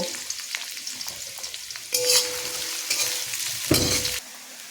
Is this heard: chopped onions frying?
yes